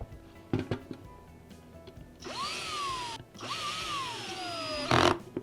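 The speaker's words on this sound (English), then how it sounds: "then use the cordless drill" A cordless drill whirs up twice in long bursts, pitch sagging as it bites into a screw, with clicks and handling noise before and between.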